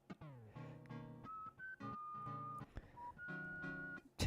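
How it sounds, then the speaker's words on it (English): Off-tune whistled melody in Animal Crossing video game music, with sustained whistle notes gliding over a plucked, bouncy backing, quiet and without voices. "the off-tune whistling is so good"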